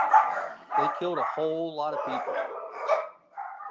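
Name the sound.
dogs barking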